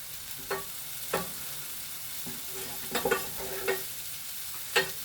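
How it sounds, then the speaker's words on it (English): Butter melting in a pan on an electric stove gives a soft, steady sizzle with occasional brief crackles and pops, no voices over it. "So our butter's starting to melt now"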